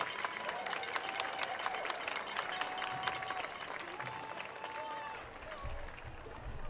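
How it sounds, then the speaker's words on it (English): Crowd applause at a high school football game: scattered, steady clapping from a stadium crowd, moderately distant, with voices and a public address announcement mixed in. "please give a round of applause for all of our future Golden Eagles."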